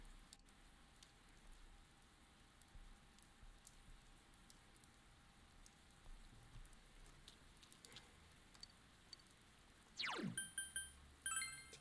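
Light rain in the Persona 4 Golden video game, a faint, steady patter of drops alone with no talk, ending in a short rising boing-like tone and a few louder soft thumps.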